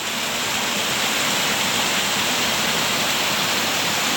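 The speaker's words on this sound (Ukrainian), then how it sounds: "піднявся я на оглядовий майданчик водоспаду Труфанець" Steady, dense rush of the Trufanets waterfall in Zakarpattia, low on water, a constant broadband roar with no pauses, fairly close and loud throughout.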